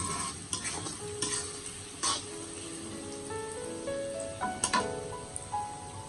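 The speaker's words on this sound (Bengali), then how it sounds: "ধনিয়া পাতাগুলো দিয়ে একটা নাড়া দিলাম" Hilsa roe curry with coriander leaves being stirred in a pan, with a soft sizzle and a few sharp scrapes and clinks of the spoon against the pan, plus faint tonal background sounds.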